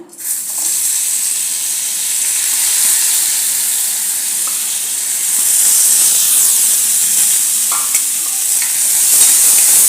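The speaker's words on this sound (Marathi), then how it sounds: "ही कणी तुपावरती थोडी परतून घ्यायची" Washed broken rice grains sautéing in ghee for jaggery rice kheer, a loud steady sizzle and hiss close by, with occasional spoon scrapes and no talking.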